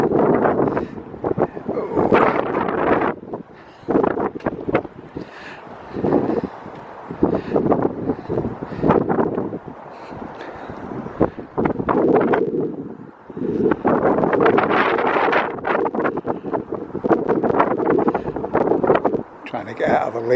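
Wind buffeting a microphone outdoors on a high viewpoint, heavy rumbling gusts that rise and fall in loud bursts, with someone talking intermittently under the noise.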